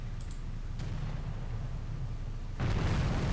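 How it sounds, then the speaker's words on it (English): A large explosion in the naval combat video game Victory at Sea Pacific, set in a naval assault on Guam, erupts as a sudden heavy boom over a steady low rumble, loud and close with no voices. "Oh man, that was a big explosion."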